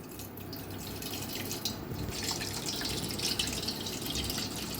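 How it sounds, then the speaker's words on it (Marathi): Water drains slowly off soaked rice paste in a home kitchen, a soft continuous trickle and dripping, faint and steady with no talk. "तर सावकाश काढा पाणी।"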